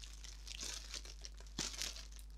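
Packaging around a Chucky Loungefly mini backpack is cut and pulled open, giving soft crinkling and tearing rustles close by, with a sharper crunch of plastic midway.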